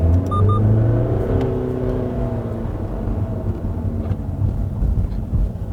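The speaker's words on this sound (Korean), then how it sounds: "근데 진짜 디젤 소리는 어떻게 이럴 수 있지?" A Volkswagen Golf 8 diesel engine hums low and steady from inside the cabin while driving, a smooth muted rumble with a slight rise early on, no talking over it.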